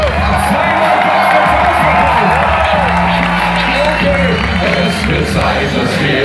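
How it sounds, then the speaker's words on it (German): Loud concert crowd noise in Munich with cheering and clapping, voices and whoops blending into a dense roar that holds steady throughout. "Leute, macht einen Applaus für euch selbst."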